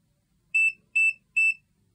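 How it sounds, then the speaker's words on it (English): A VEVOR 2-in-1 handheld digital multimeter oscilloscope beeps while measuring AC outlet voltage: three short, loud, evenly spaced electronic beeps with no other sound around them. "it'll beep and give you a measurement of the power"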